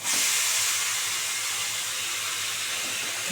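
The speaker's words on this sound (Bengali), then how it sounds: "জল ঝাড়ানো কচু শাকটা দিয়ে দেবো এই যে কচু শাকটা দিয়ে দিচ্ছি" Wet taro leaves hit a hot pan and set off a loud, steady hissing sizzle that holds at an even level throughout, with no talking.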